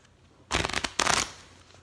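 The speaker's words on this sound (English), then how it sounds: "I'm shuffling this card." A deck of playing cards shuffled during a cardistry trick, two quick riffling bursts of crisp fluttering card flicks close to the ear, separated by a brief pause, with faint room noise around them.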